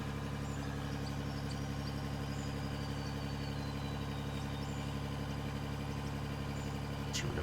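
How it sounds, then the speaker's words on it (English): A dumper truck engine idles in the Out of Ore mining game, a loud, steady, monotone drone with a constant low hum that never changes pitch. "Looking forward to the engine rework so we can get more than one monotone engine sound"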